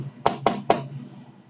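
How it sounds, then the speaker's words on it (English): Three heavy knocks pound on a front door in quick, evenly spaced succession, close and sharp, then silence. "I awoke to the sound of someone pounding on my front door"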